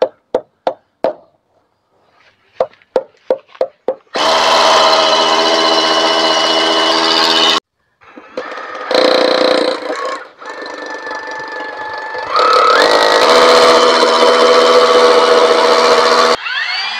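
A power drill fitted with a 10 mm bit starts with a few quick trigger taps, then runs in long loud whining bursts with brief pauses between, close to the listener while mounting a garden hose reel.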